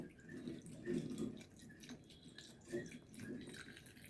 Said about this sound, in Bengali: ঠান্ডা জল দিচ্ছে বাবা।